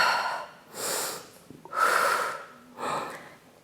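Three sharp, breathy exhales through the nose and mouth, evenly spaced, each lasting about a second, from a woman doing a standing ballet-fitness strengthening exercise, close and clear with no talk.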